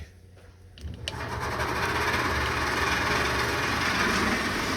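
Powder coating oven fans, jumped straight to power without a relay, spin up from a quiet start into a loud, steady whooshing whir that rises and holds; one fan rubs slightly.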